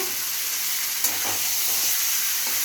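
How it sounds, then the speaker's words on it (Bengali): Chicken pieces frying in a hot pan with ginger, garlic and onion give a loud, steady sizzle close by, broken by faint scrapes of stirring. "মাংসটা ছেড়ে দিয়ে আদা রসুন পেঁয়াজ দিয়ে দিলাম"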